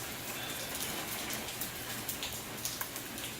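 Steady rain falling outdoors, a dense even hiss with scattered close drip patter, continuous and fairly loud without talk.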